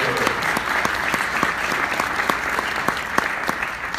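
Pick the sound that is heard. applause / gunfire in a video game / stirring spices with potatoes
applause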